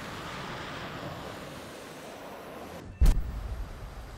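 In War Thunder, a Kh-29TE missile leaves an aircraft with a sudden loud launch thump and a roaring rush, breaking through a steady jet-engine drone.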